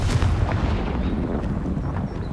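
A Confringo fire spell blast from the Hogwarts Legacy video game: a loud, sustained booming rumble, like artillery fire, filling the whole moment with no pause.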